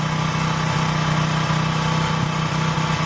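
A motorcycle engine idles steadily and close while the throttle is adjusted, a continuous even rumble with no voices.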